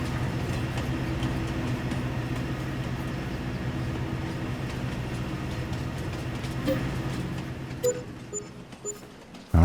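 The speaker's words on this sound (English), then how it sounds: "And there I am, driving a train." Train driven in the Farming Simulator 22 game, a steady close rumbling rail drone with low mechanical hum throughout, a few brief clanks near the end and no talk.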